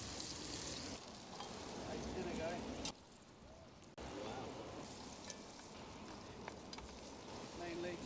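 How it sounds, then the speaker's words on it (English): Limpets cook in their own shells on an open fire on the UK coast, giving a soft, continuous sizzle and faint bubbling with a brief dip in the middle, heard at low level outdoors. "You can see them just cooking in their own shells"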